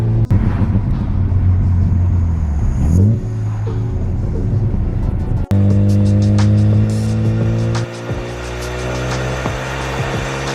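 A Mazda RX7 rumbles along in traffic with a deep steady engine drone, dropping and shifting pitch as it changes gear, close and loud without talking.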